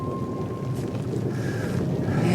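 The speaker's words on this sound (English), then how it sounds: "Isn't it a lovely day to be caught in the rain?" Steady outdoor rain with a low, rolling rumble of thunder that swells toward the end, a continuous wash of noise with no voices.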